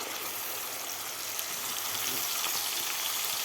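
Spiced yogurt mixture frying in a hot pan for chana pulao gives a steady, dense sizzle that holds at an even level throughout, close and without pauses.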